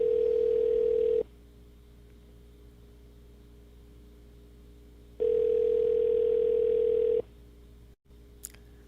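An automated voicemail system plays a steady electronic telephone tone while transferring a call. The tone sounds twice, about a second and then two seconds long, with near-silent line hiss between.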